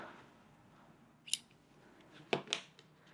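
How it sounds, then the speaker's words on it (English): Scissors snip a leftover yarn tail after casting off a hand-knitted scarf, with about three short, crisp snips close by in a quiet room with no talk. "I'm going to cut my little tail"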